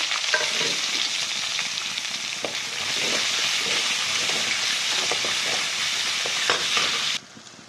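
Onion, cumin and curry leaves fry in a pan for a ladies' finger stir-fry, producing a strong, steady close sizzle with crackling pops and stirring scrapes before the sound abruptly drops away near the end.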